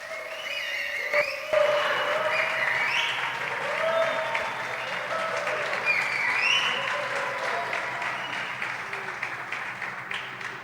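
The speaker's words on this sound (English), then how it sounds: "let's give them all a real Namibian squash, wonder squash round of applause and welcome" At the final of the Namibian Open squash tournament, a crowd gives a round of applause, steady clapping with a few whistles and cheers rising over it, fading toward the end.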